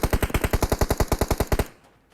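Rapid burst of automatic gunfire in PUBG Mobile, about fifteen evenly spaced loud shots over a second and a half, then a quick fade to quiet.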